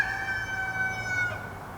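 A rooster wearing an anti-crow collar crows once in the near distance, a drawn-out harmonic call lasting over a second before it cuts off, with low background rumble.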